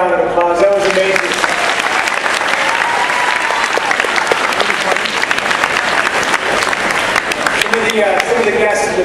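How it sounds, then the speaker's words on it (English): A loud crowd applauds at a 50th anniversary celebration, with sustained clapping and cheering throughout while people talk over it and a little music sounds faintly beneath. "Let's give them another round of applause."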